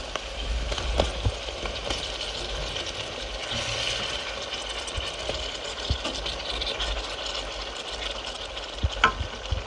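Potatoes go into a hot pan for stewed potatoes, giving a steady low sizzle with occasional scrapes and clinks as they are stirred, continuous and fairly close.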